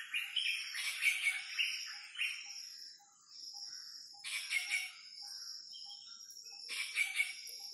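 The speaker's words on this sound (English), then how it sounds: "It's not just the sounds of the birds that we listen to." Birds chirp and sing outdoors in a quiet natural setting, with bright repeated tweets and trills coming in bursts over a faint steady background hum. Nobody speaks.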